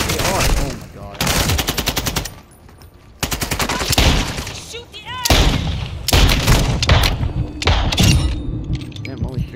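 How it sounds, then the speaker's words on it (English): Video game gunfire in Call of Duty DMZ: several loud bursts of rapid automatic fire and single shots with booming impacts, broken by short pauses, with players talking over parts of it. "Shots."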